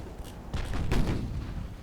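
Warship secondary guns fire in Ultimate Admiral Dreadnoughts, giving a few muffled booming bursts that roll into a rumbling tail.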